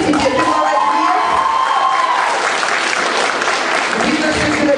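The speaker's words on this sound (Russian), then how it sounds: "Так что, Оль, аплодисменты тебе, ты молодец!" Lively applause fills a room, dense clapping mixed with cheers and some higher shouts, continuing steadily for several seconds at a youth civic event.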